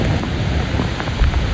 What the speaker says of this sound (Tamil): இப்போ மழை பெய்ய ஆரம்பிச்சிச்சு